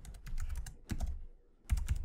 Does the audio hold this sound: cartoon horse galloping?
no